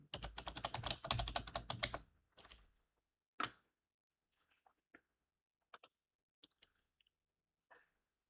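Fast typing on a computer keyboard while entering a mobile number to log in to the Upstox trading platform: a dense run of close, crisp key clicks for about two seconds, then a few scattered single taps.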